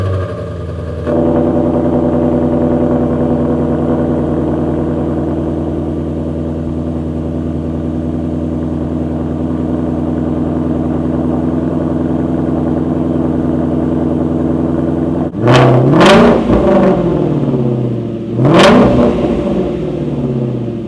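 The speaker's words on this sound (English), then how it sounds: "let's go ahead and do the last cold start with the stock exhaust" A Shelby GT350 on its stock exhaust fires up from cold, settling into a loud, steady high idle for some seconds before two sharp throttle blips ring out near the end.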